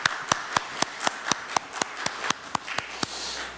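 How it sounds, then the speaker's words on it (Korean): A church congregation claps for a visiting guest, giving about fifteen sharp, evenly spaced claps at a steady beat. The clapping is moderately loud and fairly sparse, as if from a few people in a sanctuary. "박수 한번 쳐줄까요?"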